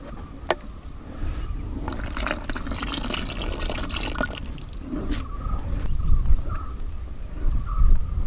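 Custard mixture poured into milk in a pan while stirring for a fruit salad, a continuous close liquid pouring and sloshing with soft stirring scrapes.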